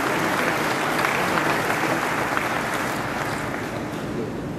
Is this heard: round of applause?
yes